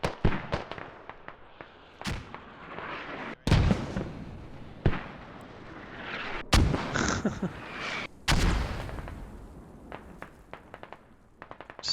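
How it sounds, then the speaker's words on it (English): Mortar rounds firing and landing in a military video game match: several heavy, distant booms spaced a second or two apart, each with a rolling echo, over quiet background ambience. "Just mortaring old ProG positions."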